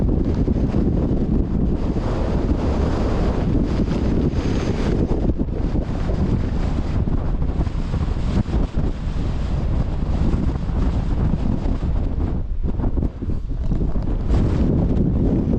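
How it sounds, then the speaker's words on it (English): Strong gusty wind roars and buffets against the microphone continuously on the Wansfell summit in Cumbria, a loud rumbling rush with no voices. "It's nigh on impossible to even hold the camera steady, it's that windy."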